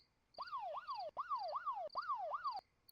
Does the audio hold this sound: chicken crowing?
no